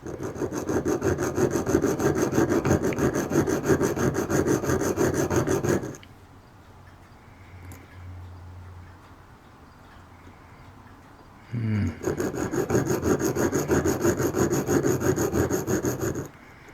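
A scraper rasps over a wooden part of a model ship in fast, steady back-and-forth strokes, close and loud, pausing for several seconds midway before resuming just as strongly.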